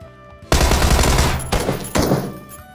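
Gunfire in PUBG, two loud close bursts of rapid shots cutting in abruptly, the first longer and the second starting around the two-second mark, with no speech over them.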